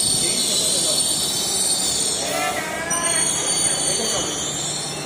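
A metro train arriving at its last station and slowing to a stop, with a high metallic wheel squeal over steady rolling noise, while people talk nearby.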